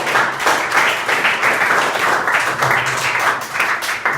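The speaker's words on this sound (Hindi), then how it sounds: "मुस्कान के लिए ताली बजाएं" Schoolchildren clap for a classmate in a classroom at a public school in Azamgarh, Uttar Pradesh, giving a brisk, somewhat uneven patter of many small hands that rises and dips in waves throughout.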